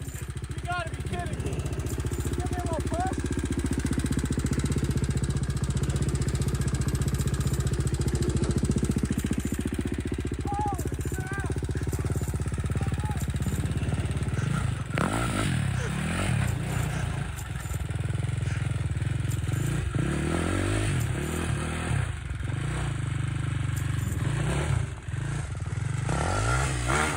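A motorcycle engine runs loudly throughout, revving repeatedly with clattering mechanical noise and rising and falling pitch sweeps in the second half, while voices talk over it.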